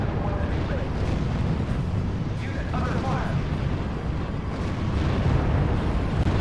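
Dense, continuous rumbling of massed artillery explosions in the strategy video game R.U.S.E., a steady heavy low roar without distinct single blasts, with talking over it.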